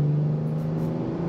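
BMW M3 G80 engine accelerating in fifth gear from around 100 km/h: a steady, loud, humming drone with a strong low tone runs through the whole brief moment.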